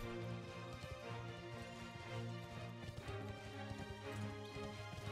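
Horse hooves galloping in the online game Bless Online, a rapid repeating clip-clop rhythm under a steady musical backdrop, moderately quiet and without speech.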